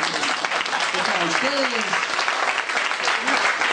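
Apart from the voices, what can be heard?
audience applauding themselves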